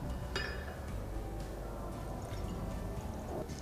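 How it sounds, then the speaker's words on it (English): Vinegar is poured into a container with a soft, steady trickle, a faint clink of glass near the start and a low rumble underneath, close and quiet. "I will put a little bit of vinegar into a container"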